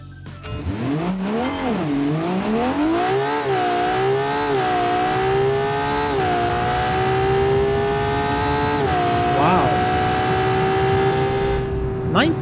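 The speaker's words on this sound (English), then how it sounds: "It's an inline 6 turbo, very impressive." Inline six turbo engine on a drag-racing car in BeamNG.drive, loud and close, revving hard as it launches, then holding a high, climbing drone through the gears with small dips between shifts, alone with no talking.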